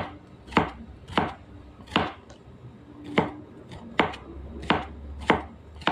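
A knife cuts through bitter gourd (ampalaya) on a cutting board in a steady series of about ten crisp, close chops at an even rhythm, with no talking.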